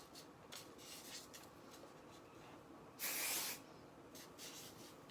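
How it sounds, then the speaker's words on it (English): Quick bursts of spray mist onto the long pointy ends of a cosplay wig, faint short hisses with one longer, louder spray in the middle, close by and without speech. "I like to spray the points down, the long pointy ends"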